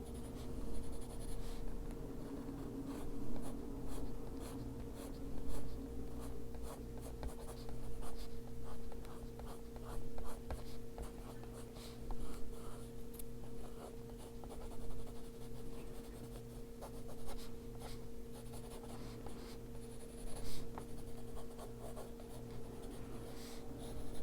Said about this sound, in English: Vary the pressure you put on the pencil to get some that are dark,